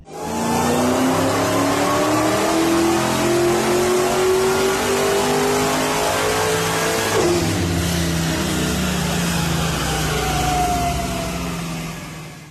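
A Dodge Demon 170 with a built 7-liter stroker engine running on a dyno, roaring loud and close as it revs steadily higher, then drops sharply and keeps droning before slowly fading.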